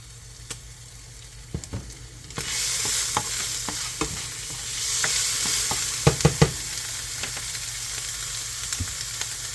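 Beef and minced garlic in a skillet set up a sizzle that swells after a quiet start, with sharp utensil clacks and scrapes scattered through, loudest in a quick cluster near the end.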